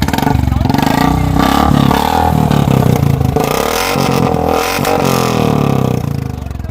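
A Royal Enfield Bullet motorcycle engine runs with a bamboo pipe fitted into its silencer, roaring loud and steady with rough revving surges throughout, close by.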